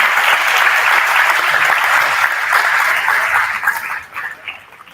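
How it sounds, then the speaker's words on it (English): School honors-night crowd applauding the class of 2025 top ten students, loud sustained clapping that fades out toward the end. "let's give them all a nice round of applause for the top 10 for the class of 2025"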